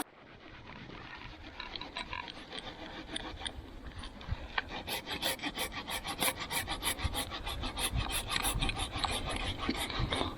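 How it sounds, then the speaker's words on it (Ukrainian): A cheap garden hand saw cuts through thin wood sticks outdoors by the Dniester river, its rasping strokes repeating steadily and growing louder and quicker as the blade bites deeper, close up with no talk. "Дешева садова пилка."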